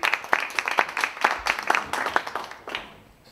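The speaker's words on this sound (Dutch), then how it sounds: "ik zou zeggen, hartelijk applaus voor Kees Donkers." An audience gives a short burst of applause for a speaker at a talk on innovative housing, several seconds of scattered clapping that thins out and fades at the end.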